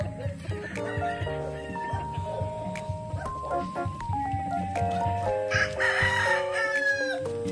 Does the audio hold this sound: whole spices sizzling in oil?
no